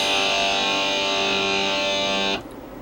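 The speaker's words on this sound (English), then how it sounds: "then it sounds like a big chord under distortion" A loud, sustained distorted electric guitar chord rings steadily for over two seconds, then is abruptly muted, leaving faint hiss.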